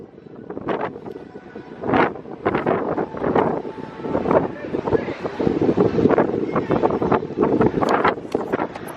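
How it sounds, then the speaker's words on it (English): Strong wind buffets the microphone in rough, gusting bursts on the deck of the cruise ship MSC Meraviglia, with a low engine-like rumble underneath and a voice speaking through it. "it is windy as hell out here"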